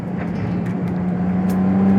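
Ferrari 296 Challenge race car driving, a steady engine drone with a strong low tone and road roar, holding loud and even throughout.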